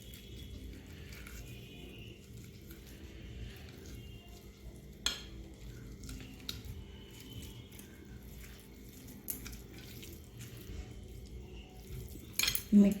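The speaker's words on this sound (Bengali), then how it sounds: "এবারে আমরা এটাকে ভালো করে মেখে নেব।" Egg mixture with oil is stirred in a bowl, soft scraping and clinking of a utensil against the dish in irregular strokes, fairly quiet and close, with a few sharper clinks toward the end.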